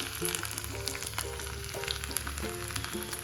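Finely chopped garlic sizzles in hot ghee for a tadka, a steady close crackling fry with small pops throughout, and no talking.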